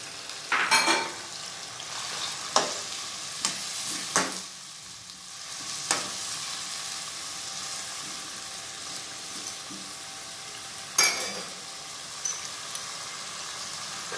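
Carrots stir-fried in a pan with rice ingredients for jaggery rice: a steady close sizzle punctuated by intermittent sharp spatula scrapes and clacks, a few strokes standing out loudly against the hiss.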